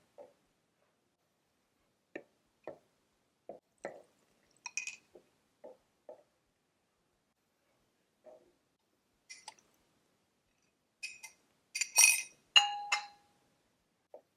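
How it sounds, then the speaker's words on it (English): A spoon stirs a thickening mixture into strawberry sauce in a pot with the heat off, giving sparse, quiet clinks and taps against the pot, scattered irregularly with long gaps and a brief busier cluster near the end. "Just stir it in."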